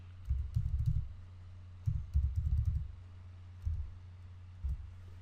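Fingers type on a computer keyboard in short bursts of soft, close clattering keystrokes, with a long run at the start, another in the middle, then two brief taps with pauses between them; no talking.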